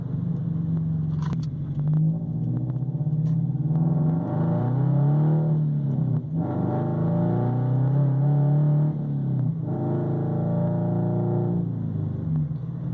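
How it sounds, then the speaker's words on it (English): A tuned 2013 Subaru BRZ pulling uphill in fourth gear, the engine note climbing steadily through several surges of acceleration, loud and continuous with no talking. "This is fourth gear uphill, and you step into it a little bit and the car just starts pulling."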